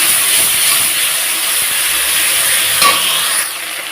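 Spices dropped into hot oil while making a Bengali rohu fish curry with potato and brinjal, producing a loud, continuous hissing sizzle with a brief burst and stirring near the end.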